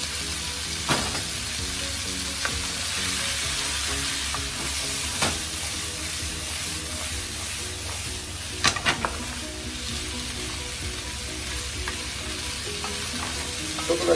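Vegetables and potatoes stir-fried for samosa filling, a dense continuous sizzle with sharp scrapes and clacks of the spatula against the pan at irregular intervals.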